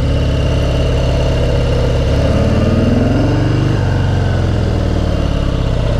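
2018 Harley-Davidson Sport Glide V-twin engine on a test ride, a loud steady rumbling throb that rises and shifts in pitch as it accelerates, no talk.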